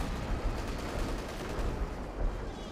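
Autocannon fire rattles in a Company of Heroes 2 battle, a dense, loud barrage of rapid bursts blending into a continuous roar of battlefield noise with no voices.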